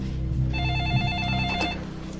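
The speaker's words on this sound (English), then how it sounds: "So when his phone rings one morning, it seems like fate." A telephone rings with a warbling electronic trill, one steady ring at moderate distance over a low background hum.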